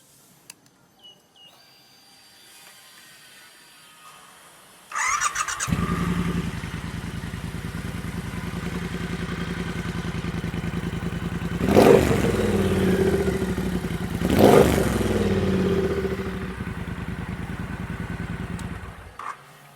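A Triumph Bobber motorcycle with a Motone slip-on exhaust and stock catalytic converter starts after a quiet moment. It settles into a deep, loping idle nearby, with two sharp throttle blips in the middle before idling on.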